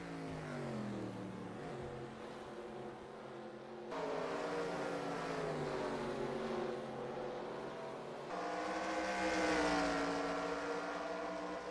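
NASCAR Busch Series race cars roar through a simulated video game race, engine whine rising and falling in steady layered drones with shifts in pitch as cars accelerate, moderately loud and continuous with no talking.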